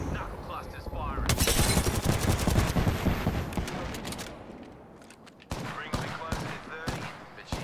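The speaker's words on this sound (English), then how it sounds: "Knuckle clusters firing." The Knuckle Cluster ability firing in the battle royale game Apex Legends: loud rapid bursts of explosive pops, crackling and fading, followed by a second cluster of sharp bangs, with a voice speaking over it.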